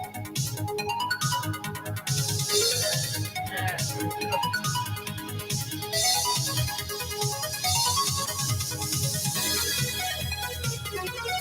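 Upbeat music from the racing video game 80s Overdrive, with dense synth melody over a steady beat, playing loud and continuous throughout.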